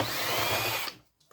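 Handheld power drill backing screws out of scrap electrical equipment, a loud close whirring burst lasting just under a second, then a cut to near silence with a faint brief knock.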